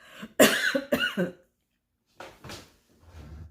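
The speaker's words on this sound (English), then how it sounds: "I had a little bit of a coughing, choking a little bit there" Several harsh coughs burst out close to the microphone, then after a short silence come a few weaker coughs and throat clearing.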